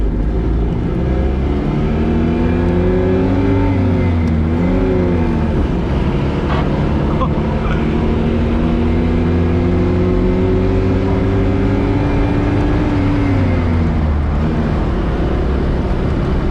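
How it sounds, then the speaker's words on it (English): A Honda N600, a small early Honda car, drives and accelerates, its engine loud and close with a buzzy note that climbs and falls through several gear changes across the run. "Goes pretty fast for a little car, though."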